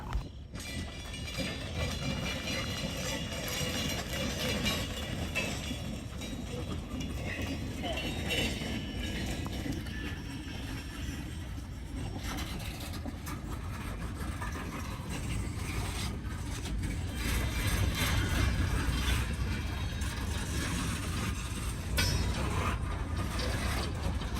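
Freight railcars rumble and clank along the track at night as the train is pulled back, a steady, heavy rolling roar with metallic rattles and screeches throughout and speech mixed in.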